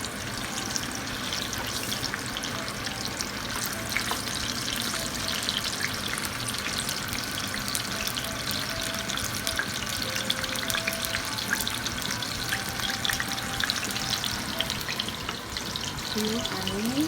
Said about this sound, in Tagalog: Prito ko na hotdog.